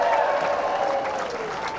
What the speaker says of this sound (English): Give it a special round of applause to the heifer cleanup crew.